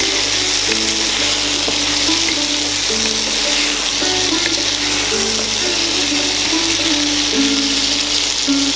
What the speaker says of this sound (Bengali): আদার পেস্টটা খুব ভালো করে তরকারির সাথে মিশিয়ে নিচ্ছি।